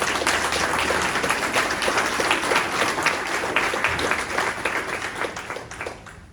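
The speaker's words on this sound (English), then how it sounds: "can we just give them a round of applause?" A room full of people at a general meeting applauds steadily for several seconds, dense clapping that tapers off toward the end.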